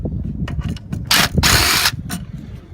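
A half-inch ratchet loosens two bolts on a carriage arm, giving quick rhythmic clicking in short bursts with a couple of longer, louder spells of rasping, close up.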